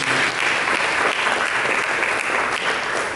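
A church congregation claps together, a dense, loud, continuous wash of applause filling the hall without a break and with no speech on top.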